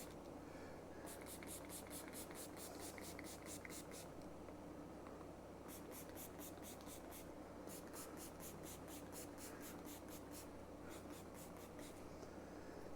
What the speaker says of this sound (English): But I'm using the K&N air filter cleaner. Basically, you just spray this on nice and liberally.